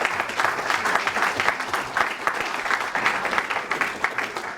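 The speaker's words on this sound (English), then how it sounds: "A quick round of applause for New England College." An audience at a New England College town hall event in Concord, New Hampshire claps in a sustained, dense round of applause close by, with no talking over it.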